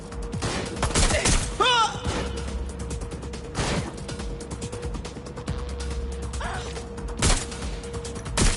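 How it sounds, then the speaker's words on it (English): Gunfire in Watch Dogs: Legion: several loud, sharp shots spaced apart over a busy background of mechanical creaks and rattles, with no talking. "Someone's shooting!"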